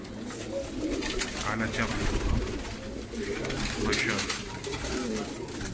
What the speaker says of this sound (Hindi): 103 या 104 कबूतर हैं दोस्तों।